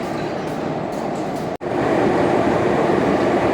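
A train on the Yerevan metro gives a constant loud rumbling roar of wheels and carriage noise, dipping for an instant midway before continuing steadily.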